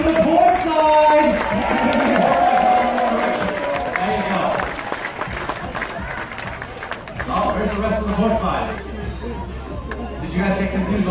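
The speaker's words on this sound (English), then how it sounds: "A big round of applause for the port side." Applause from a cruise ship audience during an equator-crossing ceremony aboard the Queen Mary 2, a loud sustained clapping with cheering and crowd chatter that dips and then swells again.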